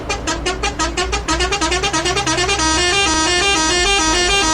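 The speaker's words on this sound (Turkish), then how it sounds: "havalı kornasına bak." Mercedes Travego bus in Euro Truck Simulator 2 sounding its air horn, a loud rapid series of pulsing melodic honks that merges into a sustained blaring tone, close and alone.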